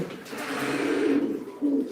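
Fancy pigeons coo at a loft in Sylhet, a soft close, low throaty cooing that swells and repeats, heard alone without talk.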